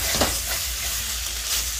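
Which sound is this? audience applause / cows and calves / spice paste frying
spice paste frying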